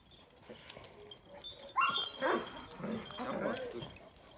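Karakırçıl female dogs whimper and yip close by, with short excited barks and whining over a quiet background.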